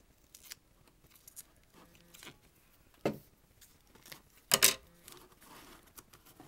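Duct tape being cut with scissors while making a doll's bed, quiet close snips and crinkles scattered across the clip, with a couple of louder sharp cuts standing out.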